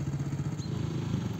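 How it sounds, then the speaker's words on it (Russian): A motorcycle engine rumbles with a pulsing, clattering beat as the rider rolls down a snowy sledding hill in a park, loud and steady throughout with no voices. "Мотоциклист катается с горки,"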